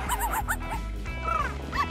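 A cartoon dog whimpers and yips in a playful, sing-song series of short yelping calls, close and fairly loud, alongside Halloween scenes with crows after pumpkins.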